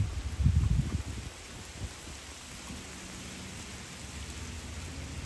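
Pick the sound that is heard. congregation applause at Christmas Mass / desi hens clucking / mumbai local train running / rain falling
rain falling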